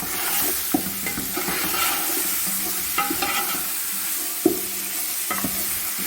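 Meat frying and being stirred in a pan for a rice and vegetable kabsa dish: a steady sizzle with scattered scraping and clinking of the spoon against the pan, close and continuous, with no talk.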